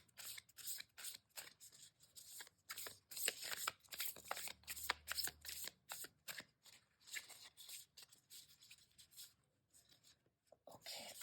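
Tarot cards being shuffled by hand, a steady run of quick papery riffles and soft rubbing strokes, close and fairly quiet, with no talk over it.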